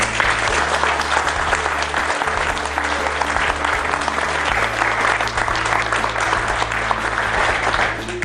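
An audience claps steadily and loudly at the inauguration of a photovoltaic plant in Lapeyrouse, a dense, continuous round of applause filling the whole stretch.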